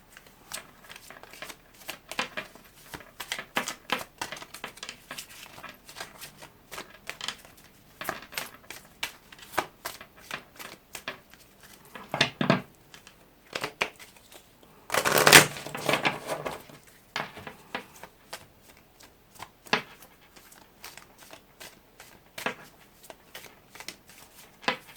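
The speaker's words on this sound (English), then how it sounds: "go ahead and shuffle the cards" Cards are shuffled repeatedly in soft, crisp riffles and taps, close by, with a louder flurry partway through and quiet gaps between bursts.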